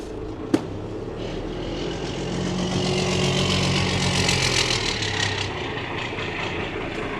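A Cummins diesel truck engine, long parked and missing parts, idles steadily nearby, its low rumble rising slightly in speed midway as the idle is raised, with a brief sharp click near the start.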